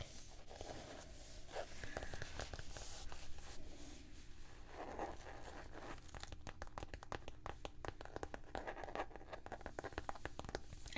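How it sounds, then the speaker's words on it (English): Pen or pencil scratching across paper in a black notebook, soft close-up strokes with crinkly, papery rustles continuing steadily throughout, no talking. "I can write it in this black book."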